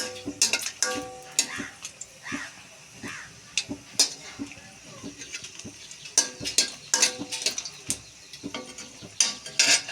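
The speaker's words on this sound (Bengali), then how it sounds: "তো এই মরিচটা ভাজা হোক।" Dried red chilies frying in oil for a Bangladeshi hilsa fish curry with potato and eggplant, close spatula clanks and scrapes against the pan in irregular bursts over a light sizzle.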